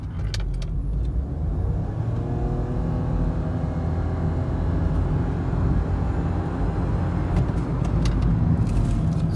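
A Nissan Note e-Power in sports mode accelerating hard on a long run, a steady loud electric-motor whine and road roar building continuously from inside the cabin, with no speech.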